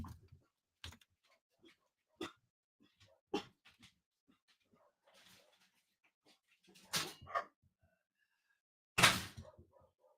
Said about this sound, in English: Judge Cajun just drove up, and our dogs know her car, so they're raising Cain.